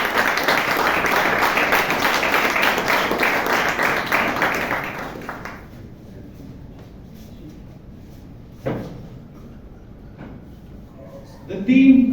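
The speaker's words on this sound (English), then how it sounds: "can we have a huge round of applause and welcome our guests to the club" A club meeting audience gives a sustained round of applause to welcome guests, a dense, even wash of clapping that lasts several seconds and then fades into a quiet room with a few faint knocks.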